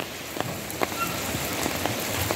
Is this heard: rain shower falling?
yes